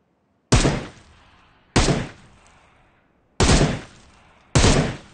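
A bot in BGMI fires single shots, four sharp separate bangs spaced about a second apart, each one loud and close with a short decaying tail, and no talking over them.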